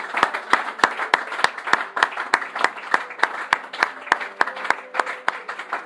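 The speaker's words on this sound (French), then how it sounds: "On peut acclamer pour Jésus. Acclame très fort." A church congregation claps for Jesus with sharp, distinct handclaps in a brisk, fairly regular rhythm. No cheering voices stand out above the claps.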